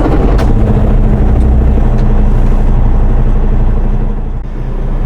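A Cummins-powered Kenworth T680 truck idles with a steady, loud low diesel rumble that holds throughout, dipping slightly near the end.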